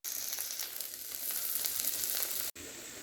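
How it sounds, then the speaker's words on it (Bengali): Chopped vegetables with onion and tomato fry together in a pan, giving a loud, continuous sizzle with light stirring that drops out briefly near the end, with no voices. "সব সবজি একসাথে ভালো করে ভেজে নিচ্ছি"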